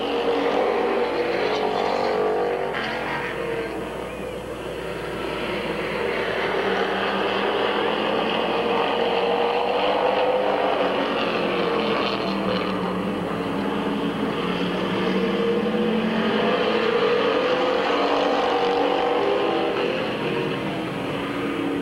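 Race cars roar around Midvale Speedway as the field takes the green flag, a dense, continuous engine drone that swells and stays loud throughout.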